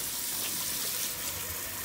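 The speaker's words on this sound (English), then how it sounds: "Come to the sink. A bit of water running in it." Water runs from a kitchen sink tap in a soft, steady stream, a fairly quiet continuous splash with no voices.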